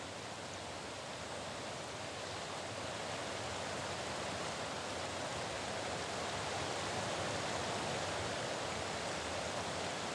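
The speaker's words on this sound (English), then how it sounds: "That is a fairly nice waterfall." A fantasy waterfall in the video game Lands of XON gives a steady, even hiss of rushing water that runs unbroken throughout, faint and with no talk.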